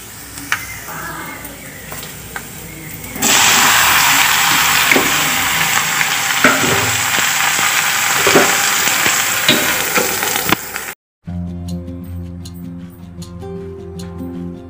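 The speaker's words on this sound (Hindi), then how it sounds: "एक सब्जी मैंने छौंक दिया है" Chopped vegetables hit hot oil for tempering in a home kitchen, setting off a loud, continuous sizzle with occasional stirring clatters, preceded by quieter kitchen sounds and ending in a sudden cut to quiet music.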